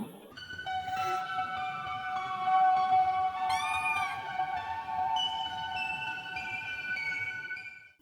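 An anime cat meows in long, tonal cries over soft background music, one louder rising meow standing out midway.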